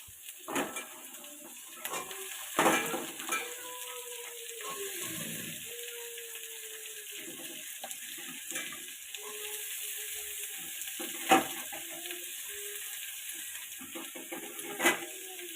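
Onion stalks and brinjal fry in a pan with lightly browned onions, a steady soft sizzle and hiss running throughout, broken by occasional louder clatters of stirring.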